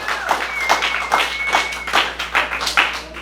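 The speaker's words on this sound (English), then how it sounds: "Round of applause for them." A small open-mic crowd at Klassy Glass in Waco gives a round of applause, with close, uneven individual claps in a lively pattern and a faint tone running underneath.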